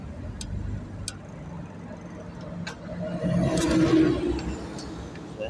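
Cars travel along a busy main road at night, a continuous traffic rumble that swells as a vehicle passes close by partway through, with faint ticking and distant engine hum throughout.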